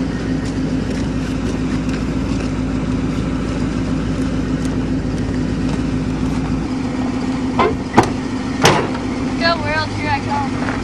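A 1984 Camaro Berlinetta drives with a steady, low engine rumble close by. A person talks briefly over it, and a few sharp knocks and squeaks are heard near the end.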